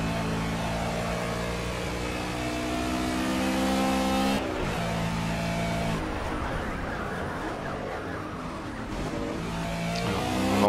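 A Ruf race car sliding around the Watkins Glen circuit in Project CARS, GT Touring class, with a loud continuous engine whine shifting pitch through gear changes and tyre scrubbing.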